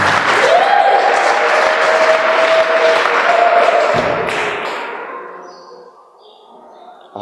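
A church congregation claps together in a dense burst of applause that gradually thins and fades into near silence.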